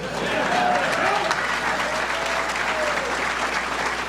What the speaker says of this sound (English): You gotta clap for that, darn it.